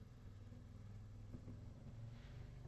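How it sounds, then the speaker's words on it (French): A motorcycle passes along a hot town street in Condom, Gascony, a low engine rumble that swells and fades at close to moderate range with no talk over it. "Je vais peut-être laisser passer la moto."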